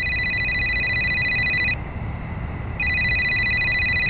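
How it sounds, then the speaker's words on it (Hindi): A phone rings with a bright electronic trill in two bursts separated by a short pause, loud and close in a quiet room at night, with no talking over it. "हाँ तेरा फोन बज रहा है।"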